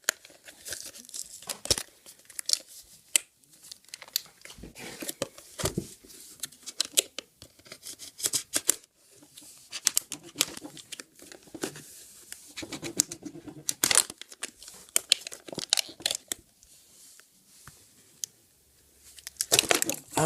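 LEGO-style Mayka block tape packaging being torn and crinkled open, with bursts of ripping and rustling plastic in irregular bouts and short pauses between them.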